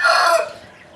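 An aseel rooster crows once, loud and close, a bright strained call that fades out in under a second with no one talking.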